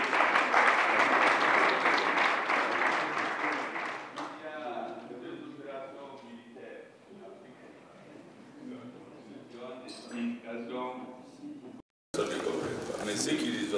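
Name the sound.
audience applause at a dinner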